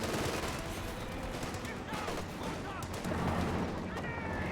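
Dense, continuous gunfire from an M1919 machine gun alongside a .50 cal in a Company of Heroes 2 battle, steady bursts blending with other shots and battlefield noise, with faint voices mixed in.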